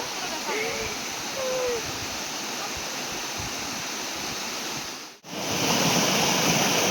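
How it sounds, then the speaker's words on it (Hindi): Turga Falls pours in a continuous broadband rush of falling water heard up close during a morning walk, with faint voices underneath and a brief dropout before the roar returns even louder. "तुर्गा जलप्रपात बा तुर्गा फॉल्स बा"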